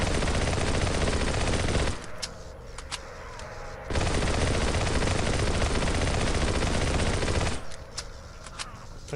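Automatic weapon gunfire in Halo CE SPV3, loud sustained bursts of rapid fire from about 0 to 2 seconds and 4 to 7.5 seconds, with quieter game ambience and scattered shots in the gaps.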